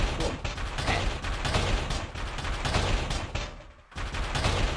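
Gunfire from Walter in Silent Hill 4, a dense continuous burst of loud shots and impacts filling the whole stretch, with a brief dip near the end before the blasts resume.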